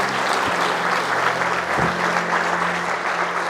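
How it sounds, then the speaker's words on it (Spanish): Sustained applause from a church congregation, dense clapping that holds steady throughout, with a couple of low thumps underneath. "Denle un aplauso al Rey de Reyes"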